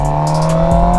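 A Suzuki GSX-R750 motorcycle engine holds a loud, steady, buzzing rev at close range, with a brief dip in pitch near the end and no talking.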